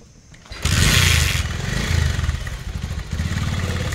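A motorcycle engine idles and revs nearby, a loud rough rumble that surges and then settles into a steady chugging putter.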